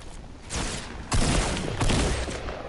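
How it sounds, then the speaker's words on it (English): Rapid video-game gunfire rattles in bursts at an enemy, loud and sustained, with heavier volleys swelling partway through. "Can you please shoot him, Riley?"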